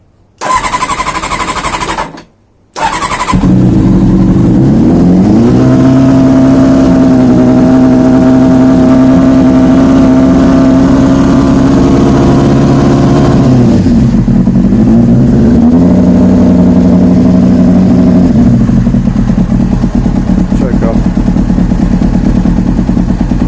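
A Triumph Thundercat motorcycle engine catches after a brief cranking start, then settles into a steady idle with two clear rises in revs and a drop back, loud and close with no talking.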